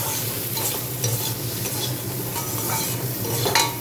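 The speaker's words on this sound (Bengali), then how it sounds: "নুন হলুদ লঙ্কা আর গোটা কয়েক কাঁচা লঙ্কা দিয়ে দিই এবারেও এটা দিয়ে একটু কষিয়ে নেব" Salt, turmeric, chili powder and whole green chilies are stir-fried in a pan, a dense close sizzle with continuous scraping and stirring from a spatula and no talking.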